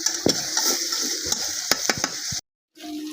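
Native fish such as koi and tilapia fry in hot oil, a close, steady sizzle punctuated by sharp pops and spatters, briefly cutting out before the frying resumes.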